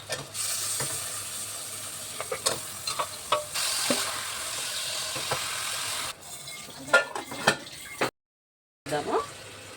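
Goat head meat with onions, turmeric and ginger-garlic paste sizzles steadily in a pan while being stirred, with repeated scraping strokes over the hiss, a brief silent gap near the end.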